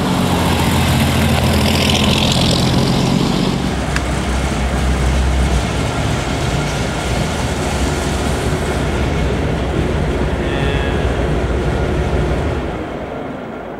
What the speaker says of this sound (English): I reluctantly gave the wheel back to Jay as we turned the tank car toward home base